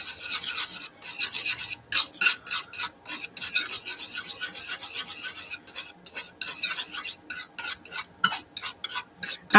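A palette knife mixes blue and other paint on a palette before painting on fabric, giving a steady rasping scrape in quick repeated strokes with short pauses, close and fairly loud throughout.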